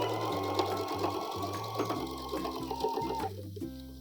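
A sewing machine runs close by as it stitches the side seam of a blazer, its motor whirring in a steady rapid rhythm with short pauses and speed changes, and no one speaks.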